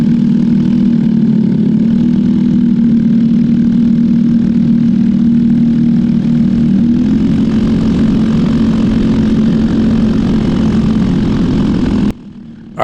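Racing kart engines at a North Texas karting track before a race start, a steady loud droning hum held for about twelve seconds before it cuts off abruptly.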